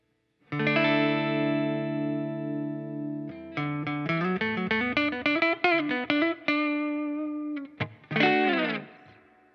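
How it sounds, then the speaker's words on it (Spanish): Gibson ES-335 electric guitar on the neck pickup with tone and volume at full through a clean amp, a held chord ringing out, then a run of plucked notes and a final strummed chord, clear and alone. "Escuchemos primero cómo suena la pastilla del mástil con el tono y el volumen al máximo, con un sonido limpio en el amplificador."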